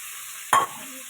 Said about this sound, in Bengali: এটা আমি তেলের মধ্যে দিয়ে দিলাম।